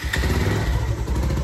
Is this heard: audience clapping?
no